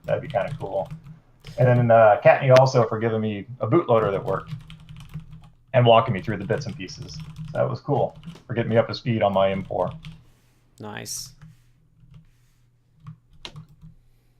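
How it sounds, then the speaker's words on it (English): Keyboard typing clatters softly beneath a person talking steadily nearby, with pauses between phrases. "Sorry for the keyboard noise."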